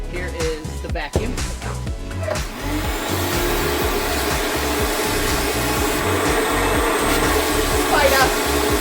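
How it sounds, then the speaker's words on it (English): A vacuum cleaner whirs steadily and loudly, its motor settling into a constant drone after a few uneven bumps at the start. "Here is the vacuum."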